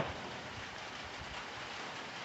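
Steady rain falls on a farm, a dense continuous hiss of drops holding an even level throughout with no voices.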